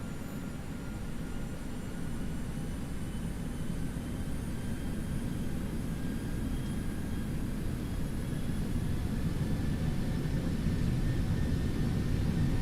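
Boeing 737-800 jet engines in the flight simulator X-Plane 12, a steady, loud, broad roaring drone with faint high whine tones that slowly builds in intensity, with no voices.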